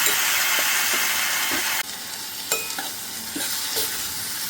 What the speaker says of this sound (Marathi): आता छान टोमॅटो होऊ द्यायचं तेलामध्ये